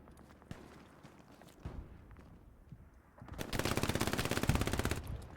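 Sustained automatic gunfire in the Hell Let Loose Stalingrad map, with scattered shots and footsteps first, then a loud, dense burst of rapid fire lasting about two seconds near the end.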